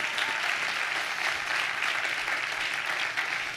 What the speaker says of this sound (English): let's give her mother a round of applause if we could